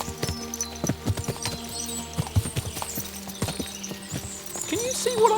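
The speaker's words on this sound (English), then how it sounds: "What a lot of horses!" Horses' hooves clip-clop in Kingdom Come: Deliverance II, an uneven run of close, sharp hoof strikes over a low hum, with a brief tonal sound near the end.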